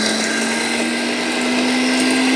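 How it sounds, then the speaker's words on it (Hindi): An electric grinder whirring steadily as it grinds spices in a jar, a loud continuous motor drone with no break for the whole stretch. "मिसालों को यहाँ पे ग्राइंड कर लें आप"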